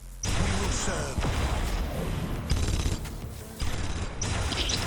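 Imperial Guard gunfire in the strategy game Dawn of War, rapid crackling volleys of rifle shots in bursts separated by short gaps, moderately loud with battle noise and faint talk underneath.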